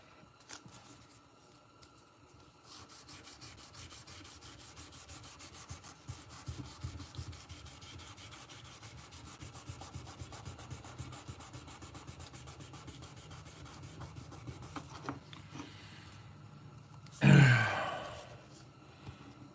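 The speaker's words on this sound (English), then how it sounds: "We're trying to sand and polish the inside of it." Steady sanding and rubbing inside the covers of a Case custom mini trapper knife handle, a continuous abrasive scrubbing that runs for most of the stretch, with a short louder burst near the end.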